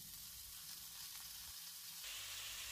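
Tomatoes sizzle in a frying pan of oil with golden shallots, a steady close hiss of frying that brightens after a brief dip, with no talking.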